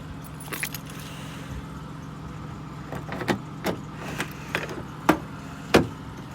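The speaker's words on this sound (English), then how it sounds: "Grab my spare key." A spare key for a 1999 Ford Taurus SE jangles on its ring in a series of close, bright metallic clinks and rattles, with a faint low hum in the background and no talking.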